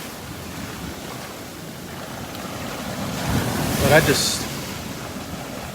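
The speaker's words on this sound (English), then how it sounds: "I love the wave action. I just love watching the waves." Ocean waves break on a Gulf beach at Delnor-Wiggins, a steady wash of surf with one louder crash near the end, under wind noise and a brief voice.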